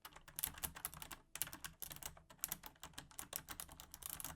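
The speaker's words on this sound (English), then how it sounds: "let's just see what the keyboard would sound like." Rapid, uneven clicking of a computer keyboard being typed on, picked up through a gaming headset microphone, quiet and close with no voices.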